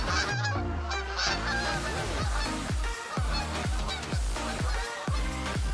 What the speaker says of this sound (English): The geese are having fun.